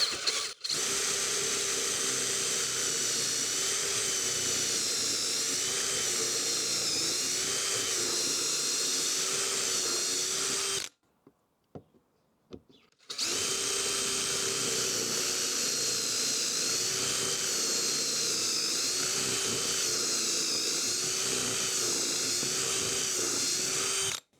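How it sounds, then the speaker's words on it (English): A high-pitched power drill whines steadily for about ten seconds, stops briefly, then runs again for another long, continuous burst, drilling pocket holes through a jig's drill guides. "create my pockets, literally by following the drill guides on the jig there"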